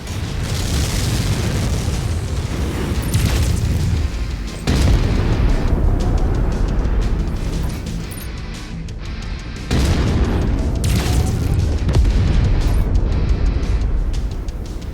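Missiles exploding in the MechWarrior video game, a continuous loud rumble of heavy booms with two sharp new blasts cutting in, dense and close without pause.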